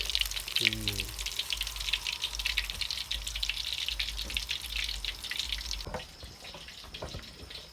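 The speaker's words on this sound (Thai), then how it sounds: "กุ้งครับทอดทอดครับตรงนี้" Shrimp fry in hot oil with a steady bubbling crackle and hiss throughout, and a short low voice-like tone early on.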